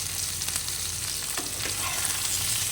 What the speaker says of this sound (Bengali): এই সব কিছু দিয়ে ভালো করে সবজিটাকে একটু কষিয়ে নিতে হবে